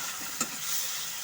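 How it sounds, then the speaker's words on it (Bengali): A tomato and mustard paste mixture fries in a pan over medium heat, giving a steady bright sizzle with a brief scrape of stirring partway through. "এখন সমস্ত কিছুর সাথে আঁচটাকে মিডিয়ামে দিয়ে সমস্ত কিছুর সাথে আমি ভালো মতো করে কষে"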